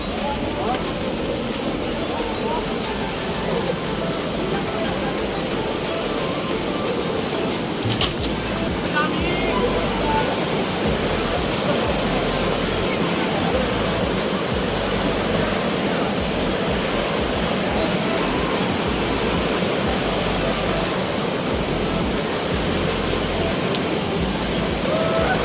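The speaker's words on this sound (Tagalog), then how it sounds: "Lalakas ng falls." Loud, continuous roar of Anaconda Falls in La Paz, a dense, unbroken rush of falling water that stays steady and close throughout.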